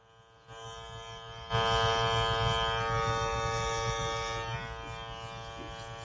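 A makeup airbrush runs with a steady electric buzz of its compressor, growing louder as spraying starts, then easing slightly while it keeps going, near and without speech.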